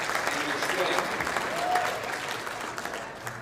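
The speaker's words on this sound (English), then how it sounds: "I kind of ask everybody to join me in a round of applause for the people of this region" Round of applause from the audience at a public meeting in East Palestine held with Norfolk Southern representatives, a steady crowd clapping texture filling the moment, a voice audible over it.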